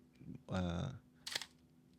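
A horizontal camera shutter fires once, a crisp mechanical snap standing out sharply after a stretch of speech.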